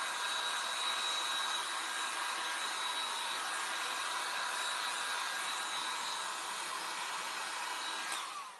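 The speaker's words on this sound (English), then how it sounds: "I'll hit it with the hairdryer real quick." A hair dryer blows steadily at close range, drying a cracked patina paint finish on furniture, a constant airy whir that cuts off abruptly at the end, with no talking.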